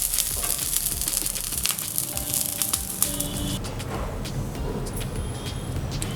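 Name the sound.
rava uttapam frying on a pan on low flame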